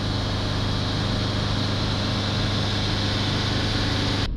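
A Mercedes Sprinter diesel engine with intake air and particulate filter faults runs with revs held up, a steady, loud, unchanging drone with a low hum that cuts off abruptly at the end.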